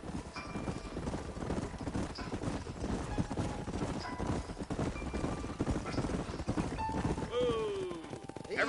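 Horses in the game Red Dead Redemption clip-clopping steadily under riders, hooves close and continuous, with a whinny near the end.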